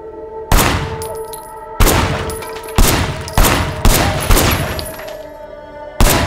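Gunfire in the video game Sleeping Dogs: about seven loud, sharp shots in an irregular rhythm, each trailing off with a ringing decay, with a low hum running beneath.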